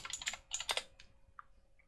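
Fingers tap out a quick burst of keystrokes on a computer keyboard, close and crisp, then the typing stops into quiet with a couple of faint tones after.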